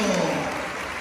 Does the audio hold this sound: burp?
no